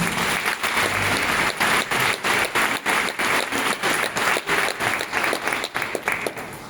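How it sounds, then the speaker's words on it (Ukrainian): Sustained applause from a concert audience at an early music festival in a philharmonic hall, dense and steady clapping throughout, fairly close and loud with a faint voice briefly audible. "Аплодисменти"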